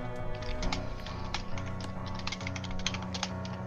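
Rapid keyboard typing in the video game Camp Cadaver, a steady run of clicky keystrokes over a humming musical background, fairly close and moderately loud.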